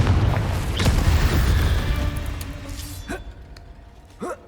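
A Confringo blasting spell goes off in Hogwarts Legacy as a loud, broad booming burst that rumbles and fades over a few seconds, followed by faint clinks and a short thud.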